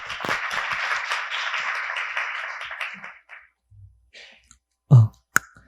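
Audience at a Korean user conference claps to welcome a speaker to the stage: a steady spread of applause for about three seconds that fades out, followed by a few scattered knocks and thumps.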